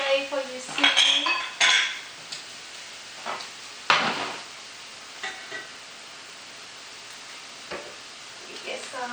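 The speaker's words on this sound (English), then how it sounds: "I will get out the plate for you see" Plate and metal cutlery handled in a home kitchen while bitter melon with eggs is served, with a few sharp clinks and clatters early on, then scattered lighter taps, close and clear with sparse voice.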